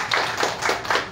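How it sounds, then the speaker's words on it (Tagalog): A church congregation claps in praise during a worship sermon, four or five distinct rhythmic claps in quick succession, fairly close and moderately loud, with no talking. "Palakpakan si Lord."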